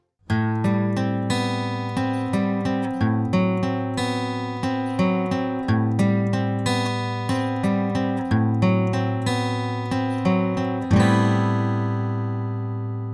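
Acoustic guitar plays steady picked arpeggios, miked at the upper bout, bright and percussive with ringing mid-range notes, close and clear, ending on a sustained strum.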